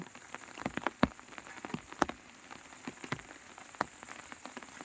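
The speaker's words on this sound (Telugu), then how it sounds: "మాకేమో వర్షం మా మమ్మల్ని ఇబ్బంది పెడుతుంది" Steady rain falling, with scattered sharp drops tapping on a nearby surface at an irregular pace, fairly quiet overall.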